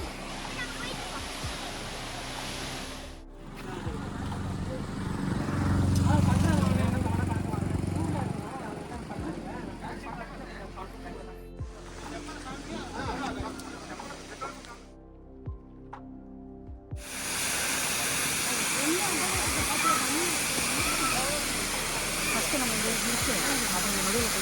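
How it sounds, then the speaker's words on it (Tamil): A waterfall in the Kolli Hills gives a steady broadband rush of falling water that swells and dips over about twenty-five seconds, with voices speaking over it. "இப்போ நம்ம ஒரு ஃபால்ஸ் வந்துருக்கோம். அந்த ஃபால்ஸ் லைக் இங்கே பாருங்க."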